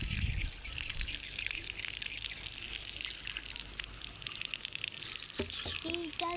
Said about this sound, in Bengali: পেয়ারাটা ধুয়ে নেব।